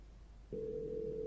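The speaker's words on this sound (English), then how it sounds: "Trying to make a phone call." A telephone dial tone in a horror video game sounds after a brief quiet moment, then holds as a steady, clean hum with no voices.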